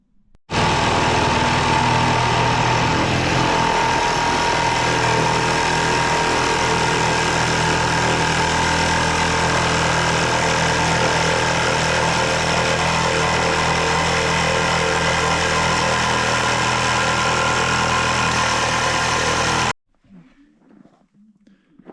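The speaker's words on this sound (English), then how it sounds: "I'll start cutting with the jigsaw now" A jigsaw with a dull blade cuts a hole through wood inside an outhouse build, a loud, steady buzzing roar running nonstop for about twenty seconds before stopping abruptly.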